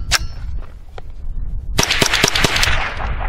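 Winchester Super X rounds fire from a Rock Island TM-22 rifle, an early sharp crack followed after a pause by a rapid burst of several loud, close shots with metallic clanks.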